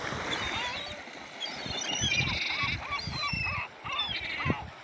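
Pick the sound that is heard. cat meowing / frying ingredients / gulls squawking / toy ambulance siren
gulls squawking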